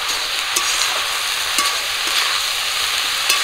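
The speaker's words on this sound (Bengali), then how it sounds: "লবণ হলুদ দিয়ে কুমড়ো ডাঁটাগুলো একটু ভাজা করে নেব।" Pumpkin stems frying with salt and turmeric in a pan, a steady close sizzle with occasional sharper crackles and spatters, heard alone with no voices.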